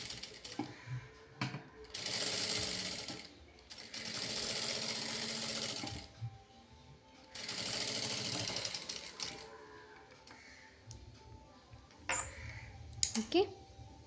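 Sewing machine stitching the side panel of a princess-cut blouse, whirring in several sustained bursts of a few seconds each, separated by pauses filled with handling noises and someone talking.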